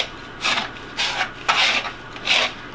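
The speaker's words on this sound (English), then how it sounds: "twist and whisk" Whisk stirring ingredients with cinnamon in a bowl for a honey bun cake, four separate scraping, rasping strokes a fraction of a second each, near and fairly soft, with no talking.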